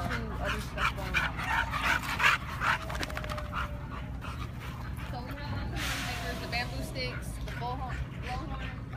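Dogs at a playgroup pant and whimper close by, with a few yips and barks mixed in while people talk over them.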